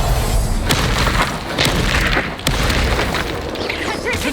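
Booming spell explosions from the video game Hogwarts Legacy, repeated thuds and bursts in dense, continuous combat noise, loud and close throughout.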